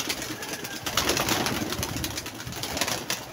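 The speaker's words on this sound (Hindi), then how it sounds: "ये माशाल्लाह उड़ गए हैं कबूतर" Pigeons fly off, fluttering and cooing amid rushing wind, a busy outdoor flurry of wings and bird sounds with no talking.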